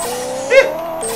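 Honda NSX racing car engine in the Pixel Car Racer video game, a steady synthetic engine drone with a short rising rev burst midway, loud and close throughout.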